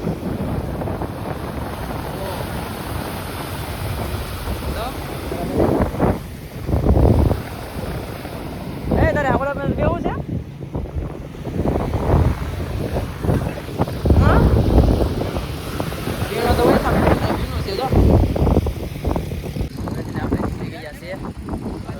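Sea waves and wind on Madhavpur beach near Dwarka, a steady wash of surf and gusting wind under frequent nearby conversation between several people.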